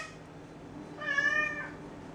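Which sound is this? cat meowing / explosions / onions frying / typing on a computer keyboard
cat meowing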